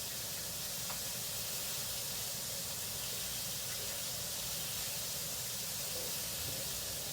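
A constant sizzling hiss of fish frying in a skillet, steady and close for several seconds with only faint background clatter.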